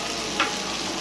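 Garlic frying in a pan for moong dal makhni, giving a steady close sizzle with a brief stir or scrape in the middle, loud and with no one talking.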